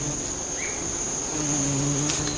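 A Centridini bee working Banisteriopsis flowers for oil, giving a steady, continuous insect drone with a faint higher whine throughout, close and unbroken, no voices.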